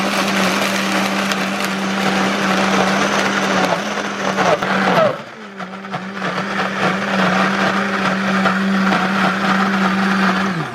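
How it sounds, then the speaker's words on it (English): A blender whirs loudly and steadily through chaffle batter, a close, constant motor drone that dips briefly midway as the load shifts, then resumes at full strength, with no talking. "I'm just gonna blend this around."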